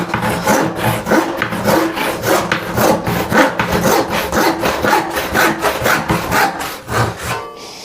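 A hand saw cuts through wood in fast, regular back-and-forth strokes, each one a loud rasping push. There are about fifteen strokes, close up with no talk, and the sawing stops just before the end.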